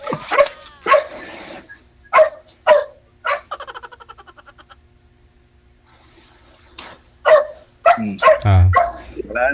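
Dog barking in the background of a live Filipino broadcast, several sharp barks and yips in bursts, with a whimpering run in the middle, mixed with people talking.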